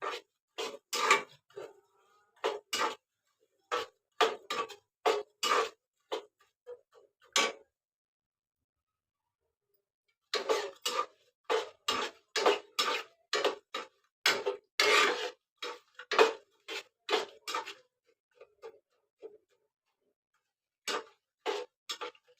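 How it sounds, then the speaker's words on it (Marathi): A spoon scrapes a hot pan in steady rhythmic strokes while jaggery melts for chickpea-flour ladoo syrup. The strokes come in close, fairly loud bursts, pause for a few seconds midway, then resume; nobody speaks. "सतत ढवळत राहायचा व्यवस्थित"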